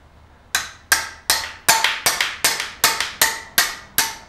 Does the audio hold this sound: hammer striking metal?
yes